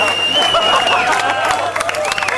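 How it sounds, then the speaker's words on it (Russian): Thin crowd applause at a biker rally's vyshyvanka contest in Uman, steady light clapping mixed with voices and babble, fairly constant level throughout. "слабые аплодисменты"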